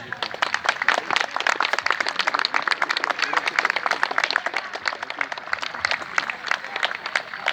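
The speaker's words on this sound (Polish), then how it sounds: "Oklaski dla nich wszystkich." A crowd at an outdoor WWII reenactment event applauds the equipment reenactors with dense, steady clapping that holds evenly for several seconds.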